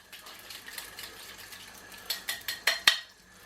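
Eggs whisked in a bowl for an omelette, heard as a rapid series of light clinks and taps that grow into a few louder strikes before stopping.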